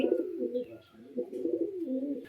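A female pigeon coos softly in low, rolling phrases, a couple of short bursts close by.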